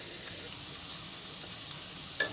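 Boiled eggs frying on a low flame for egg curry, a faint continuous soft sizzle with a light clink near the end, no voices.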